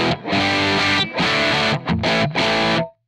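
A heavily distorted electric guitar through a Plexi amp simulator with effects off plays sustained crunchy chords, with brief gaps between strums, then rings out and stops.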